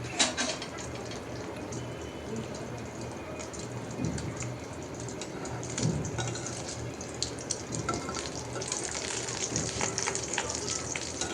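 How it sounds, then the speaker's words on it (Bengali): Egg frying in a pan in a home kitchen, a steady soft sizzle and crackle running under background clatter and occasional voices throughout. "তো ডিমটাও ভেজে নিচ্ছি।"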